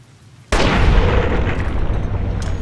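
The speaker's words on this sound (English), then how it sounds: "Let's try and get a shot with our hunting rifle to lead things off." A hunting rifle fires in Fallout New Vegas: one loud, sharp blast at the start that rolls into a long, booming reverberant tail filling the rest of the moment, with no voices.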